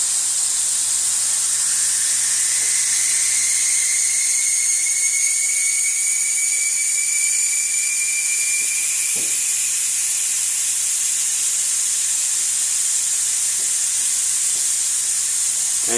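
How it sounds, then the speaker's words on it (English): Air hisses steadily out of a 2004 Chevrolet Tahoe tire valve stem with the valve core removed, a loud, continuous high-pitched rush that sustains for the whole stretch with a few faint clicks. "Valve core removal."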